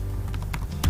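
Typing on a computer keyboard while entering a Bitcoin wallet address, a loose run of soft key taps ending with a louder cluster of clicks, close by with no voices.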